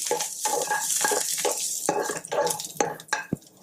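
Small shallots, garlic and a piece of ginger tossed in hot oil in a pan, with sizzling and repeated scraping and stirring strokes of a spatula in an uneven rhythm, close and fairly loud.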